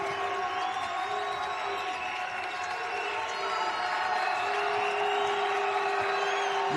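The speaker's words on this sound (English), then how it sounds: "New Mexico crowd getting excited here outside Vegas" Fans of the New Mexico basketball team cheer at a game outside Las Vegas, a steady, fairly distant crowd roar that swells slightly toward the end.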